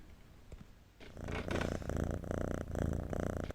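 A cat purrs up close in a steady rumbling rhythm that pulses with each breath. It is soft but continuous and grows fuller after the first second, with no talking over it.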